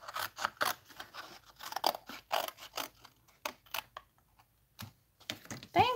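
Scissors cut a stamped paper image out of card for a Thanksgiving card, giving a quick series of close, crisp snips in irregular bursts with short pauses between them, and no talking.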